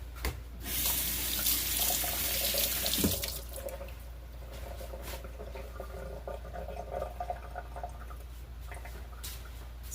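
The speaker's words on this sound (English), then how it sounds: "Let me rinse my hand a little bit." Water runs steadily from a sink tap while a hand is rinsed under it, a continuous close hiss and splash for the full length with slight shifts in tone as the flow is interrupted.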